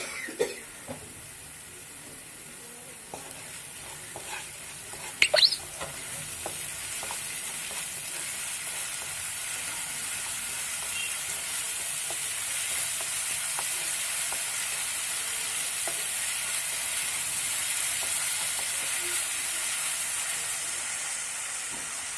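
Bhetki fish frying in a pan with garam masala and a little sugar, a soft continuous sizzle and hiss with a few brief clatters early on, steady and moderately close.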